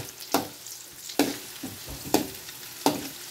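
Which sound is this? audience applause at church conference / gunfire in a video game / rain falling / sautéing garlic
sautéing garlic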